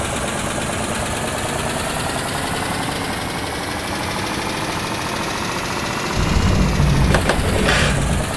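A bus engine in the Bus Driver Simulator video game drones steadily at idle with a constant mechanical hum, then revs louder and deeper near the end, with brief gear-shift clunks.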